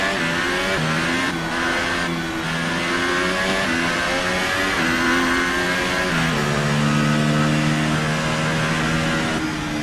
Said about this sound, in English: Here's our winner, pulling their Ferrari into Parc Ferme.